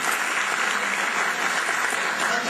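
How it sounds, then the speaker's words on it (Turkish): Audience applause at a public speaking panel, a steady, dense clapping from a room full of people that holds at an even level throughout, with no talk over it. "Çok güzel bir alkışlayalım kendisini."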